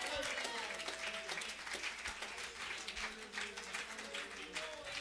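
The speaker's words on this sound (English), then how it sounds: "Somebody clap your hands to the Lord." A church congregation claps steadily through a Sunday morning service, a dense, continuous patter of many hands with voices mixed in throughout.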